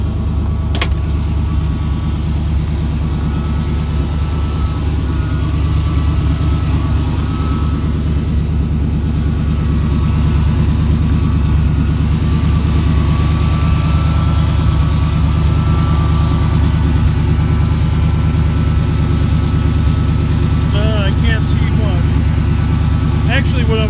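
Heavy truck engine idling steadily in a workshop with its wheels turned, a constant low rumble filling the whole stretch, close and loud, with occasional faint clanks over it.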